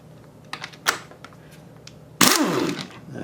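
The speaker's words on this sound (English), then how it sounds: "you gotta find somebody that has an air gun, you know, a lug wrench, zip gun" An air impact wrench, or zip gun, gives a single loud burst of rattling hammering as it spins a drill chuck off. Faint clicks and taps come before it.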